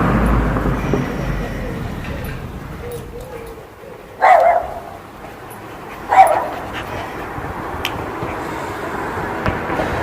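A dog gives two short, sharp barks or yips a couple of seconds apart, standing out clearly over a quiet room background.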